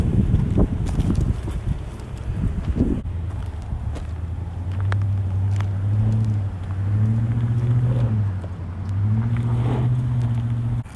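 A 2020 Toyota Sequoia TRD Pro crawls over an off-road obstacle, its engine droning low and steady with rising and falling revs, close by and without talk.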